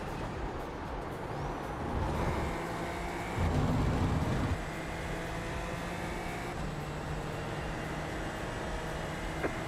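An engine drones steadily in a racing video game, its buzzing, whirring tone swelling briefly in the middle and then settling back to a constant hum.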